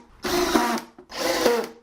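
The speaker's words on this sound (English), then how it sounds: "go ahead and screw it in with pocket screws" Power drill driving pocket screws into a wooden hanging shelf with a closet rod, two sustained whirring bursts of under a second each with a short pause between, loud and close.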